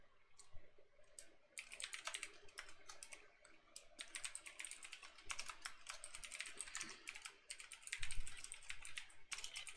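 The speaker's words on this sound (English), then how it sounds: "Here, I'm gonna type this out for you on Discord." Rapid clicking of keys on a computer keyboard, bursts of quick taps with brief pauses between, close and fairly quiet, with no talking.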